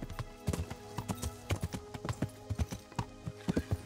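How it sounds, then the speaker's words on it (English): Horse hooves clip-clop in a steady trotting rhythm in the video game Kingdom Come: Deliverance, close and fairly loud, with a faint whinny and snorting noises mixed in. "Horse noises."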